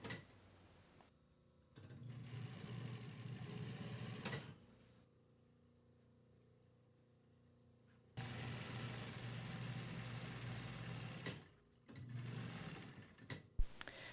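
A sewing machine stitches a fitted upholstery slip cover in short bursts of steady whirring, stopping and starting several times with quiet gaps between runs.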